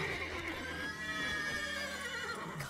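Continuous horse whinnying and neighing fills a stable in The Witcher 3 video game, a steady, fairly loud layered sound with no talking.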